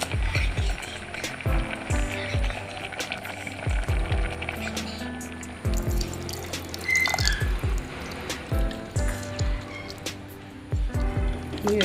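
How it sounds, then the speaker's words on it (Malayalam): Tamarind water poured into a simmering pot of curry with yam stem, tapioca and jackfruit seeds, close splashing, drips and gurgles in uneven bursts with faint bubbling between. "ഇനി നമുക്ക് പുളി ഒഴിക്കാം"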